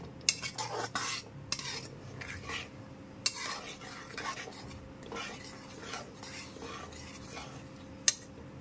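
Cashew paste mixture being stirred in a pan over a low-to-medium gas flame, with scraping and clinking of a utensil against metal and a few sharper knocks, continuous and close.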